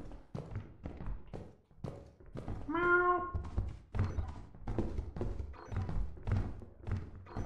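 A cat meows inside the video game Lethal Company: one drawn-out, gliding meow near the middle, set among dull thumps and footstep-like knocks.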